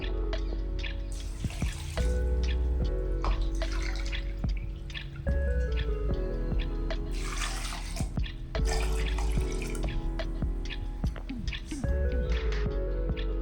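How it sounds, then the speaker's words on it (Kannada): Water poured from a cup into a pot holding rice, toor dal, carrots and beans for bisi bele bath, heard as steady splashing and dripping with a few clinks, close and fairly loud throughout. "ಮೂರು ಕಪ್ ನೀರು ಹಾಕಬೇಕು ಇದರಲ್ಲಿ"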